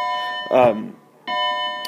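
Bells chime in the background while a man explains solving a three-variable system of equations, steady ringing tones that pause briefly under his speech and then resume.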